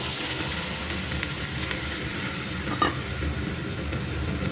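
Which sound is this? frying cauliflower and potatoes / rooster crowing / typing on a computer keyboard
frying cauliflower and potatoes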